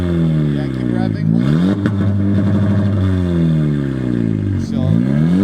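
Loud, close revving from a 2018 Honda Civic Si with an Invidia R400 aftermarket exhaust, the engine note rising and dropping in a few quick pulls while voices chat alongside.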